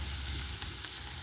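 Garlic frying in a pan for a home-cooked biryani gets stirred, making a steady close hiss of sizzling oil that runs without a break through the short moment.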